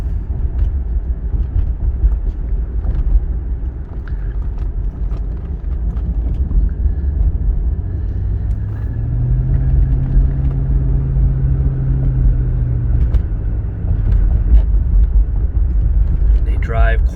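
A 1996 Cadillac Fleetwood Brougham with 75k miles cruising along quietly and smoothly: a steady, low engine and road rumble that holds even throughout, with a deeper swell in the middle.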